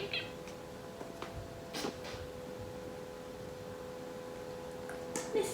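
A pet cat indoors lets out a few faint, short meows against a steady background hum. No one talks during the calls.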